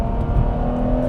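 A Ferrari 599 GTO V12 engine revs in a brief, loud, close burst with a steady droning tone, heard alone without talk.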